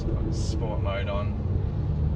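A car engine in sport mode rumbles low and steady from inside the cabin while driving, with someone talking briefly over it and a short high chirp near the start.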